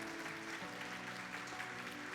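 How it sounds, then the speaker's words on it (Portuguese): Faint, steady congregation applause during an evening church celebration service, blended with soft sustained music underneath. "Você pode aplaudir o Senhor?"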